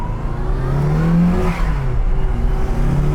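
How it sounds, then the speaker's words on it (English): A turbocharged classic MKI Mini Cooper accelerates hard, its engine note climbing loudly and steadily with a whirring turbo tone, close and dominant throughout. "Oh wow, barking the tires"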